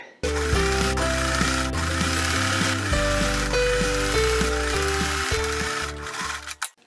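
Domestic sewing machine running a zigzag stitch while a maternity shirt is converted into a skirt, a steady mechanical whirr and rapid ticking in several bursts of changing speed, with short pauses between runs.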